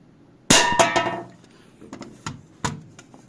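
A pellet from a Sig Sauer P226 steel-bodied air pistol strikes a tin can with a sharp metallic clang, followed by a few smaller knocks and rattles, close and loud with no talking.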